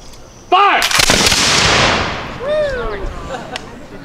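A loud, close musket volley fired at a Civil War battle reenactment of the Battle of Osborne Landing cracks out at once, then its roar rolls off into a long, fading echo. Brief shouts follow.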